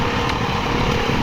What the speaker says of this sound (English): Oh, that engine braking.